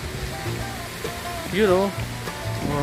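Rushing water from a mountain waterfall at Art Valley forms a steady broadband roar beneath a voice speaking briefly nearby.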